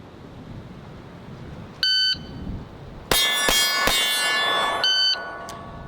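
Range qualification with steel targets: sharp ringing dings from rounds striking steel, several in quick succession, bracketed by two steady electronic timer beeps, with no talk.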